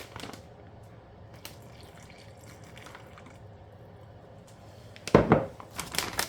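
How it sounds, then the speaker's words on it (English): Chicken marinade, an Italian or Mexican mix, is poured over two pounds of chicken: a soft liquid backdrop, then a louder splashing gush near the end, close by. "I'm gonna pour about half of this over the 2 pounds of this regular mix."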